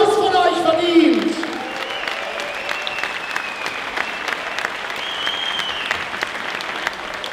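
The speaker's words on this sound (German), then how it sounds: "die beiden Damen haben sich einen tollen Applaus von euch verdient." Audience applause fills a Muay Thai event hall after a women's bout, a dense steady roar of clapping with crowd noise and a voice over it early, then sustained clapping with whistles throughout.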